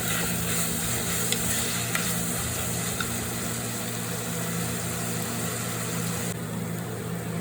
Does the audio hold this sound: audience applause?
no